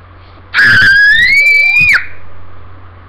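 A woman gives one loud, sustained high-pitched scream lasting about a second and a half, re-enacting a fright, then it cuts off to quiet room noise.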